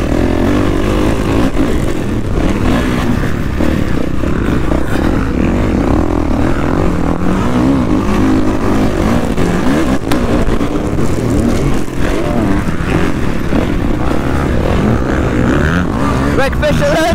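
A brand-new motocross bike races around a track at a pro day, its engine a loud, continuous buzzing whine that rises and falls with throttle, close by, with people talking over it.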